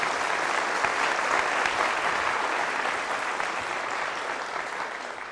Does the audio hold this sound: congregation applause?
yes